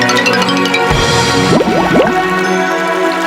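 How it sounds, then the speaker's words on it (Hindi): An axe drops into a river in an animated children's tale, giving a short watery splash and gurgle over steady background music. "और जानबूझकर कुल्हाड़ी को नदी में गिरा दिया।"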